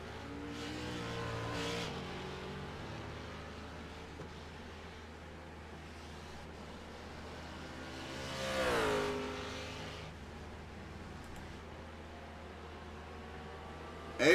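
A GT3 race car at Zolder in a racing game pulls away, its engine note climbing in pitch and swelling in volume over a steady background hiss, with no speech.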